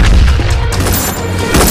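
Gunfire in an Indian action film scene, a loud continuous volley of overlapping shots and booms with no clear gaps between them.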